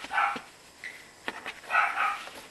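A female dog barks repeatedly in short bursts, moderately loud and a little distant, with yips between barks, from inside a house while someone sweeps out in the garden.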